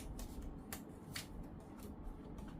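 Tarot cards are shuffled and laid down on a surface, making quiet, steady papery riffling with a few sharper flicks and snaps close by, with no talking.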